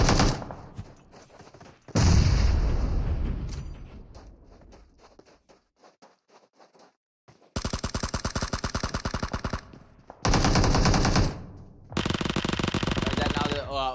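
Rapid Uzi submachine-gun bursts rattle out in PUBG Mobile during an esports championship match, several loud, dense bursts in the second half separated by short gaps, following quieter mixed game sounds.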